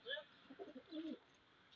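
Mixed-breed pigeons in a loft cooing softly, a few short low coos in a brief burst, faint and close, with a thin higher call near the start.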